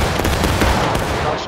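A rifle volley in the war game Outskirts, rapid overlapping gunshots cracking loud and close in a dense burst lasting over a second.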